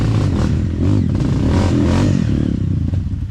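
An enduro motorcycle grinds along a Philippine trail ride in Aringay, La Union, its engine loud and close, rumbling and revving continuously with rough clattering across the whole stretch.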